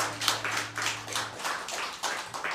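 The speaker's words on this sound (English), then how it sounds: "give me a round of applause" Audience clapping at a Wednesday night church service, a modest round of claps in loose bursts, a low sustained tone under the first half.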